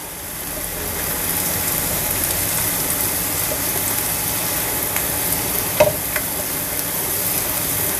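About ten thinly sliced garlic cloves fry in a pan for creamy mushrooms with an even, hissing sizzle, and a brief utensil clink comes near the end.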